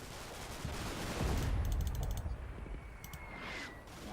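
Mortar fire in the WWII Normandy hedgerow wargame Combat Mission: a dense, rumbling low wash of distant explosions with rapid mechanical rattling bursts on top, no voices.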